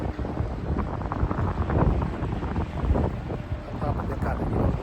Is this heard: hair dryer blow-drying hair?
no